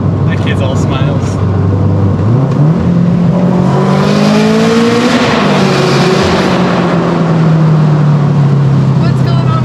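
A turbocharged E85 Toyota FRS accelerates hard, its loud close engine note droning low and then climbing steadily in pitch as it pulls, with faint voices inside the car.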